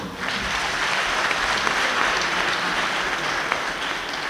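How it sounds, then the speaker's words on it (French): Crowd at a political rally in Benin breaks into applause, a dense, even wash of many hands clapping at moderate distance, steady throughout the short stretch with no voices standing out. "je veux que vous l'applaudissiez dès maintenant"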